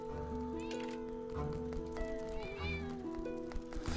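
Stray cats meow repeatedly in the video game Crossroads Inn, their wavering calls rising over sustained game music at a moderate level.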